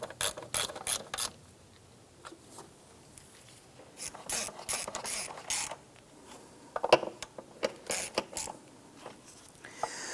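A ratchet snugs down the fuel injector bolts on a 2007-2012 Nissan Versa, giving bursts of quick clicking with creaks and pauses between strokes, close up and without speech.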